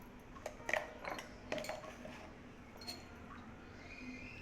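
Spoon stirring paneer tikka marinade with turmeric, chilli powder, salt and garam masala in a bowl, giving faint scattered clinks and scrapes, clustered early and then thinning to quiet.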